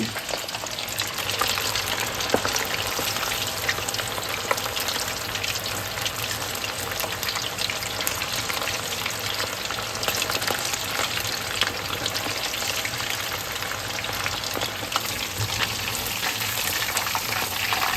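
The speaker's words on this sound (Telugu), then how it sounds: "ఆయిల్ బాగా మరిగినట్టుంది." Hot oil fries a large batch of chicken pieces for biryani, giving a dense, continuous sizzle with faint bubbling that stays even and close throughout.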